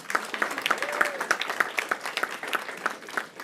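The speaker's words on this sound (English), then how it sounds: "So first applause there" Applause for honor choir students at a school board meeting: a small room's worth of steady, fairly sparse clapping, with a voice briefly audible beneath it.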